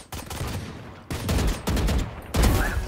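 Burst gunfire in the video game Valorant: four short rapid bursts of shots in quick succession, loud and close, with brief gaps between them.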